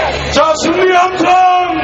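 A crowd at a national rally for a 10,000-won minimum wage lets out a loud, sustained shouting cheer, many voices bellowing and whooping together close by for about two seconds.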